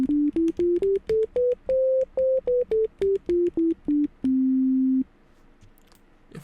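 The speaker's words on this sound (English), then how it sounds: "Let's go back to the sine wave." A synthesizer sine wave plays a pure, buzz-free melodic run of short separate notes stepping up then back down, ending on one longer held tone before fading to quiet hiss.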